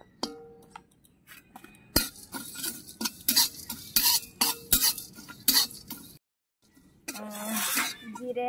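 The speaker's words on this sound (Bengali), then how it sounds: "জিরে আর গরম মশলা ভাজা হয়ে গেছে" Cumin and garam masala fry in a pan while a utensil scrapes and stirs in quick metallic strokes over a light sizzle. A short silence follows, then a voice speaks briefly.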